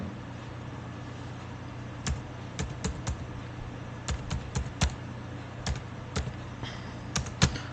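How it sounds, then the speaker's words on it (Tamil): Keys tapped on a keyboard while entering an Aadhaar number, a sparse run of short clicks in small bursts over a steady low hum, close by with no talk. "அதில் உங்கள் ஆதார் நம்பர் அடிங்க"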